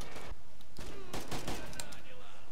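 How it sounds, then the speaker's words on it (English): Rapid bursts of gunfire in a video game, several sharp close shots clustered in quick volleys, with talk over them. "I would have hoped the gunshot would have killed you, Alex."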